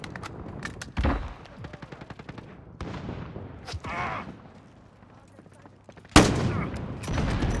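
AK rifle fire in a Modern Warfare video game rattles in rapid bursts, with a sharp loud volley near the end and quieter action sounds between, while players talk.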